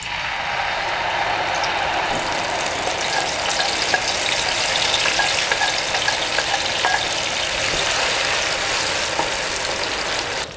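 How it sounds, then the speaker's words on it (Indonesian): A spice paste for squid sambal fries in plenty of oil, producing a loud, dense, continuous close-up sizzle with occasional stirring scrapes and no voices. "Sekarang kita tumis bumbunya."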